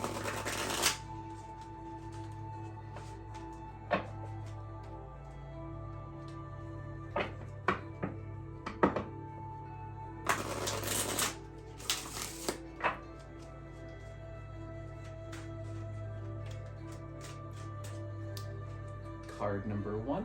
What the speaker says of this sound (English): So we'll give these cards a nice shuffle.